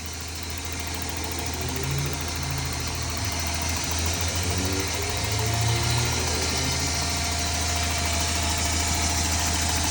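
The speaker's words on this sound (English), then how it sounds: "Beautiful 22R engine." A 1994 Toyota pickup with a 22R four-cylinder engine idles smoothly and steadily, its low continuous hum close by and even for the whole stretch, with no talk over it.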